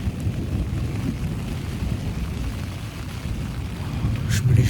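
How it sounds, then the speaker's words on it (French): Rain and strong wind batter a tent in the Swiss outdoors at night, a steady, dense roar of gusts and pattering drops with rumbling low wind buffets that swell louder toward the end. "La pluie."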